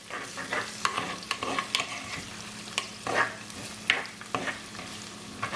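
Ingredients for chicken liver poriyal sautéing in a pan, a soft sizzle under repeated scraping strokes of a spoon stirring, close and fairly quiet with irregular rhythm.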